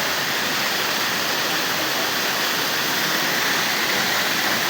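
Cabuanga Waterfall near Villa Paz in El Nido roars as a steady, dense, close rush of falling water. It fills the whole stretch with no break and no voices.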